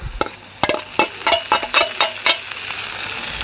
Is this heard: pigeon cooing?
no